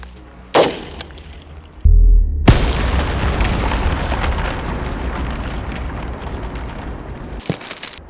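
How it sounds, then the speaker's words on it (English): Military ammunition fired at close range into the back side of a body armor plate outdoors produces loud booming shots, with one sharp report early and a heavy blast followed by a long rumbling decay, then another shot near the end. "Let's actually shoot the backside of a plate."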